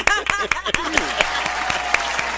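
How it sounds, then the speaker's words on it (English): A show audience claps in unison, about ten sharp, loud hand claps in a quick, fairly regular rhythm, each one ringing briefly in the room, with a lighter patter of scattered clapping between them. "Give me another hand clap"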